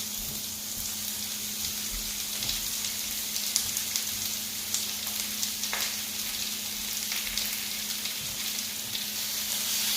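Onions frying in a pan give a strong, continuous hiss and crackle heard close, with a low steady hum underneath and a few faint knocks of the pan.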